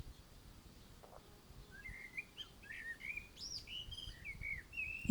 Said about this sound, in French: Vous entendez un peu mieux le chant des oiseaux